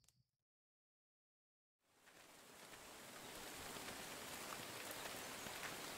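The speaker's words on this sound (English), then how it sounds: "Man, why does it have to rain?" Rain sets in after a moment of silence, a dense steady patter that swells slightly and stays even, close and alone with no voices.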